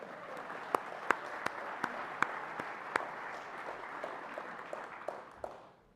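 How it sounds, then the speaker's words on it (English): An audience at a panel session on Vietnam War small unit leadership claps for a panelist, a steady wash of applause marked by a few sharper individual claps that fades out toward the end, with no talk over it. "Now we can give him a round of applause."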